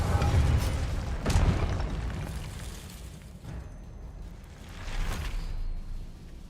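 Fiery Confringo spell blasts in the game Hogwarts Legacy land as deep booming explosions with whooshing bursts, two or three heavy impacts rolling out over a rumbling game soundscape.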